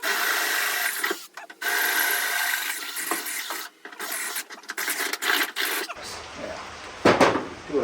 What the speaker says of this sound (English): you guys can watch me drill these holes.